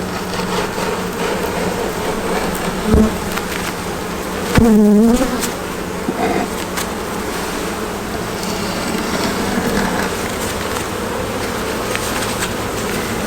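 Honey bees buzz steadily around an opened bottom brood box of a hive, a dense continuous drone with a few louder individual bees passing close by the listener.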